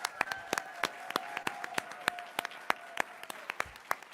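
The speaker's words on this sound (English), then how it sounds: "Give them another round of applause for that." Sparse, scattered claps from a small audience at a college quiz championship, sharp individual hand claps in an irregular rhythm against a quiet room with a faint hum.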